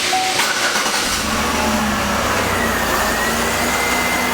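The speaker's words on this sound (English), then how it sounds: "and start the engine." A car engine cranks over and settles into a steady running drone while a shop air tool is hooked up during a fuel-system cleaning service, close and loud with constant broadband hiss and low rumble throughout.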